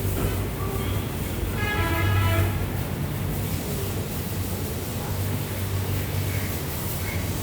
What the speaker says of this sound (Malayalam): ട്രെയിൻ കടന്നു പോകുന്നു